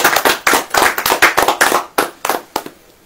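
Audience clapping during a church sermon gathering, sharp irregular claps in bursts that thin out toward the end, fairly close and loud with no talking.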